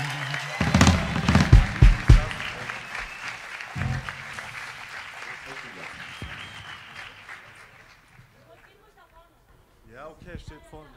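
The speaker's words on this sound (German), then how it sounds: "Und da einmal bitte einen heftigen Applaus" A crowd at a live soul concert in Braunschweig's Wolters Applausgarten bursts into loud applause with cheers, which fades gradually over several seconds before a voice begins speaking near the end.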